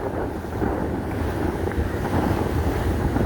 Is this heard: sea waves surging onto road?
yes